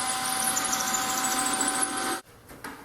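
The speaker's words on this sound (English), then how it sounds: "I'm going to drill pilot holes down into the side" A power drill drilling pilot holes into the side of a wooden tool stand cabinet whirs at high speed for about two seconds, then cuts off abruptly, followed by brief clicks and a short whir.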